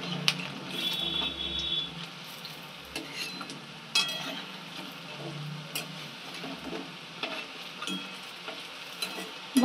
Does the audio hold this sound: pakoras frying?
yes